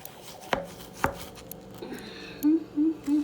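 A kitchen knife slicing through a giant zucchini, two sharp crisp cuts followed by a few softer thuds on a cutting board, close and fairly quiet with no talking.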